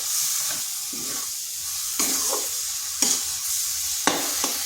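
Onion mixture with brinjal stirred in a pan over low heat, a soft continuous sizzle broken by several distinct scraping strokes of a spatula, close and without talk.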